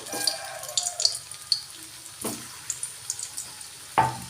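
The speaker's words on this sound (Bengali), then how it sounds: "এবার এর মধ্যে বলগুলো ভেজে নেব আঁচটা একটু কমিয়ে বলগুলো দেবো" Carrot-paneer kofta balls frying in oil over lowered heat, a soft sizzle broken by occasional louder splutters and light stirring knocks, close by with no talking.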